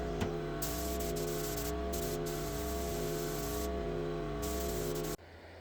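A spray gun lays the first clear coat on a 1960 El Camino, giving a loud, steady hiss close by that runs unbroken for about five seconds and then cuts off.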